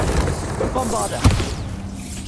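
Bombarda explosion spell in Hogwarts Legacy: one sharp, punchy boom lands about midway through, surrounded by other magical effects and a voice.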